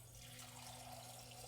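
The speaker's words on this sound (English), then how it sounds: "apologies for the water sound." Faint running water from a tap into a glass in a home office, a soft continuous hiss and trickle heard alone for a moment.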